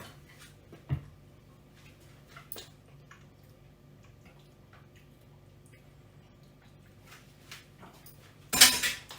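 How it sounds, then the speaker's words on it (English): A small spoon clinks against a bowl of Greek-style tzatziki, a few sparse light taps in a quiet room, ending in a louder burst of scraping and clatter. "So this is the little spoon."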